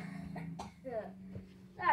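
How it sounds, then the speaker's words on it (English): A person coughs a few times in short, rough bursts, with children's voices and other talk mixed in around the coughs. "I coughed for a bit there."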